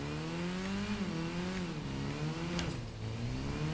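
A motorcycle engine in the video game Gotham Knights revs up and down in a continuous, droning mid-pitched growl whose pitch rises and falls over a few seconds.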